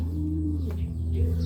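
Pigeon cooing in a backyard loft, a low, soft repeated coo held steadily over a constant low hum, close and moderately quiet with no talking.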